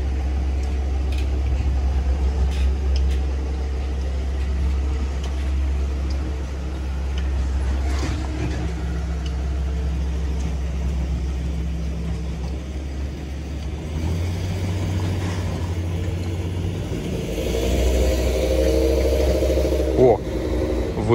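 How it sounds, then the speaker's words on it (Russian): A ten-cylinder V10 petrol car engine idles with a low, steady rumble, then revs up and settles, running continuously while people talk over it. "V10 бензиновый двигатель, 10 цилиндров"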